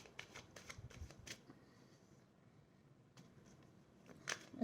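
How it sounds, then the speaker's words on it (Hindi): Tarot cards shuffled and drawn during a love reading, giving soft papery riffles and flicks in short bursts, a quiet pause in the middle, then a few more crisp flicks near the end, close and faint with no talking. "मैं थोड़े और कार्ड्स निकालती हूँ फिर आराम से बताती हूँ"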